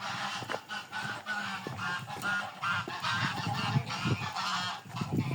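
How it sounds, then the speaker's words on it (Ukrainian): A flock of geese honks continuously at close range, overlapping nasal calls rising and falling over a noisy background. "відкриваю там в кінці гусей"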